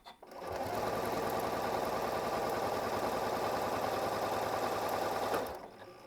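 A Janome M8 sewing machine runs a serpentine stitch along quilt sashing with its dual feed system, a steady, close mechanical whir with rapid needle clatter that starts, runs evenly for about five seconds, then stops.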